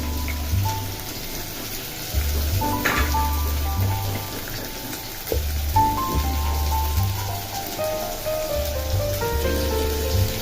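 Prawns frying with onions in a pan for a radish-greens stir-fry give off a continuous crackling, spattering sizzle that swells in louder bursts, heard up close without any voices.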